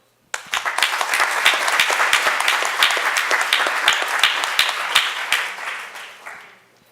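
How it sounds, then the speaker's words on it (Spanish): Audience applause at a panel discussion on the 2018–2019 elections, starting abruptly and holding steady as a dense crowd of clapping hands for about six seconds, then tapering off at the end, with no voices over it. "Un fuerte aplauso."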